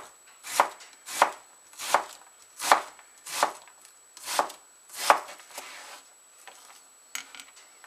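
Knife chopping down through an onion on a cutting board: seven sharp, evenly spaced chops about 0.7 seconds apart, close and clear, then a few lighter scraping taps.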